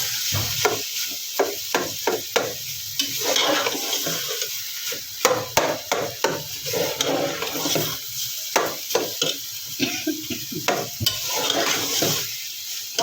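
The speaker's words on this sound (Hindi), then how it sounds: "ये देखें इसे अच्छे तरीके से मिक्स कर लें।" Radish bhujiya mixed in a pan, a spoon scraping and tapping in a rapid, uneven rhythm over a gentle sizzle, close and fairly loud.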